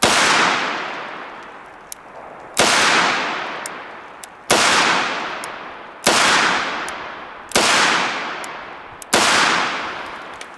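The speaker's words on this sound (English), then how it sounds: "So we're just going to press 6 shots here" Ruger GP100 Match Champion revolver fired six times double action at an outdoor range, six sharp, loud reports spaced about one and a half seconds apart, each followed by a decaying echo, no voices.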